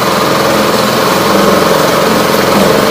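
A Hidea HDF6HS four-stroke 6 hp outboard boat motor runs steadily at close range, giving a continuous buzzing engine drone with no talk over it.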